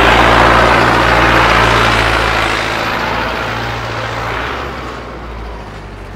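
Mahindra Arjun Novo 605 4x4 tractor with a 57 hp turbo diesel engine and modified pump, running steadily at normal rpm: a loud, close, even drone with a low throbbing hum that eases slightly toward the end, no voices.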